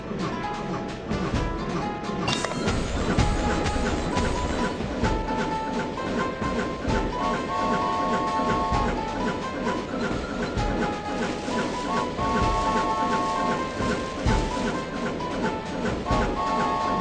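A cartoon train rumbles steadily along its track with constant rattling and clatter, dense and loud throughout, under layered music-like tones.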